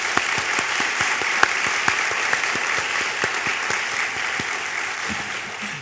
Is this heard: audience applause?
yes